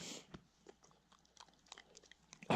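A dog crunches and chews a biscuit after a long hike, a few faint, quick bites and crunches scattered across a quiet background, with a louder knock at the very end.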